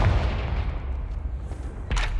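A Confringo blasting spell is cast in Hogwarts Legacy, a booming burst with dense low-end rumble at the start and a second sharp blast near the end, loud and close throughout.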